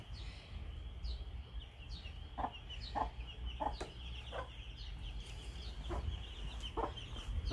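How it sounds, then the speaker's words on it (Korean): Hen in a backyard flock with chicks, making scattered soft clucks over a quiet outdoor background, fairly faint and somewhat distant, no talking. "여기는 엄마 닭 1호."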